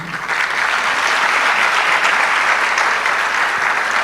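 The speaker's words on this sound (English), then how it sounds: "Keep clapping." A large audience claps steadily at a ceremony inducting newly qualified medical and dental practitioners, with thick, continuous applause that stays loud and unbroken from start to finish.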